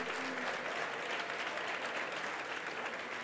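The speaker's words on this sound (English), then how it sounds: "Let's give him a round of applause." Sustained applause from a dinner audience at a SOMOS Pro Puerto Rico event, a steady dense wash of clapping at moderate level with no talk over it.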